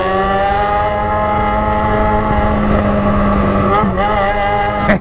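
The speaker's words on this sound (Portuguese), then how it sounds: "O barulho da minha moto, ela não é só é alto quanto é bonito." A loud, steady Yamaha XJ6 motorcycle engine idling close by, its deep harmonic drone holding constant with a slight shift near the end.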